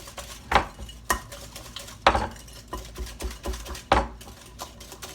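Sugar gets mixed by hand into buttermilk pie filling, a spoon scraping and clinking against the bowl in repeated irregular strokes, close and fairly loud, with no voices.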